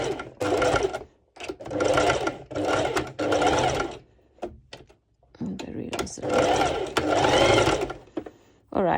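A sewing machine stitches a ruched bikini top along its underwire channel in several close, buzzing bursts broken by short pauses, with a voice talking between and over the runs.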